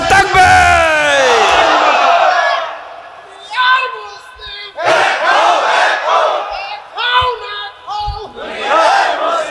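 A large crowd at an open-air Islamic religious gathering in Kapasia, Bangladesh, roars "Allahu Akbar" back to a takbir call in loud, chanted waves, with several repeated bellowing bursts separated by brief pauses.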